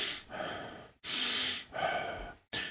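Forceful pumping breaths for a pineal gland breathing exercise: three long, loud rushes of air through the nose, close up, with short pauses between them, and a fourth starting at the end.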